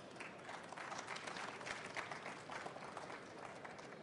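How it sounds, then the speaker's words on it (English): Audience at a business case study presentation applauding, a steady wash of clapping hands across the room, fairly faint and distant, continuing throughout with no one speaking. "First of all, round of applause."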